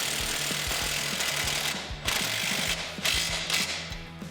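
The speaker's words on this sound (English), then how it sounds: "we're going to use a 3/4 inch wrench and socket to tighten up this lower bolt" A 3/4 inch wrench and socket ratchet a lower suspension bolt tight on a 2018 Jeep Wrangler JL during a 2.5-inch Rough Country lift install, giving a close, steady series of rhythmic clicking strokes.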